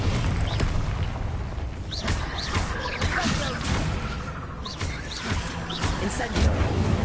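Confringo explosive spell cast in Hogwarts Legacy, a dense stream of loud bursts, whooshes and crashing impacts layered over busy combat noise, with voices speaking amid the fight.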